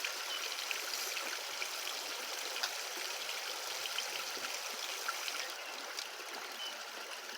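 Steady rushing trickle of water flowing through a sluice mat for gold recovery, close and continuous with small splashes, no voices.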